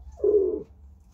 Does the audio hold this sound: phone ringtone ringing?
no